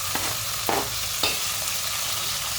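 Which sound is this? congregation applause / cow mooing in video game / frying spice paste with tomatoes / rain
frying spice paste with tomatoes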